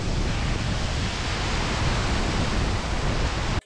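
A jungle waterfall in South India, Tamil Nadu, pours as a steady, dense broadband rush, loud and unbroken before cutting off abruptly at the end.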